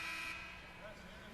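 The end-of-third-quarter buzzer sounds in a women's college basketball game between San Diego and Gonzaga, a loud, sustained electronic tone that cuts off quickly, over crowd noise and play-by-play commentary.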